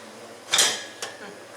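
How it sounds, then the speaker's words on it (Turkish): A metal pot clanks down onto a stovetop with a bright ring, followed by a smaller knock a moment later. "öncelikle başlamadan önce tencereyi ocağa alıyoruz"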